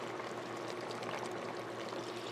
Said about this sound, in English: I'm gonna add coconut water